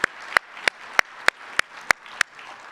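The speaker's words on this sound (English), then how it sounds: "you deserve a huge round of applause for everything that you did during this process" At a business banquet, a single pair of hands claps sharply and evenly about three times per second, close and distinct over faint background applause from the room.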